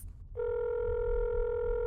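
A phone call being placed, giving a steady electronic ringback tone that starts after a short pause and holds evenly over a quiet background.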